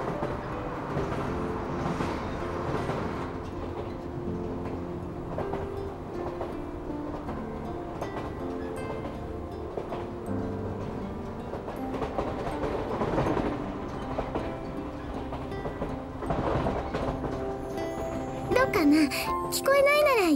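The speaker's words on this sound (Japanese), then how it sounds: "電車の中ゴトゴト言ってるの聞こえない？" Train carriage rattling along in the PS2 game Akai Ito, inside a nearly empty carriage with box seats, a steady low rumble with rhythmic clacks throughout, quiet and continuous beneath game music, with voices near the end.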